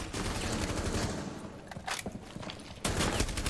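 Rapid automatic gunfire crackles through a wall in Rainbow Six Siege, a dense burst that fades and then returns loudly.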